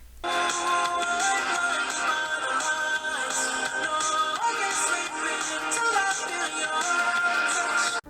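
An LG V60 smartphone's front stereo speakers play music, a continuous bright, full mix with sustained tonal layers, moderately quiet and steady, with no talking.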